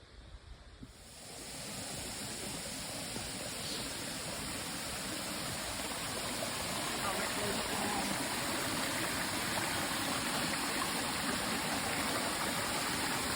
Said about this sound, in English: This is one of the waterfall areas.